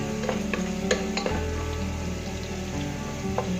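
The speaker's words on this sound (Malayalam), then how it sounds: "അപ്പോൾ ഇങ്ങനെ നമ്മുടെ സബോളയും പച്ചമുളകും ഇങ്ങനെ വഴന്ന് വന്നുകൊണ്ടിരിക്കുകയാണ്" Onions and green chillies sauté in a pan at home, a steady low sizzle running throughout with soft scrapes and stirring taps now and then, no voices.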